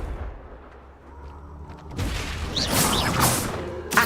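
Confringo fire-blast spell cast in Hogwarts Legacy, a loud fiery burst that erupts halfway through and rumbles and crackles to the end over a low background hum.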